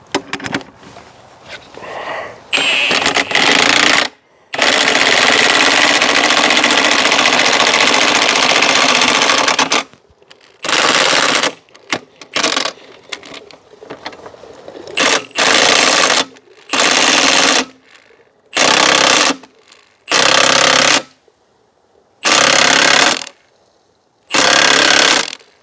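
An impact driver hammers on a jack in an apple press, one long continuous burst followed by a series of short, loud, rattling bursts separated by brief pauses, all close by.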